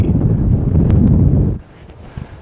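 Strong wind buffets a microphone outdoors on a disc golf course, a loud roaring rumble for about a second and a half that then drops off sharply to quiet.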